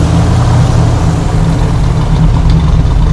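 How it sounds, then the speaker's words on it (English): A 1969 Camaro Z11 Indy Pace Car V8 rumbles loudly at close range, holding a steady deep throb with only a slight rise in revs. "Give us a little rev and let us hear it."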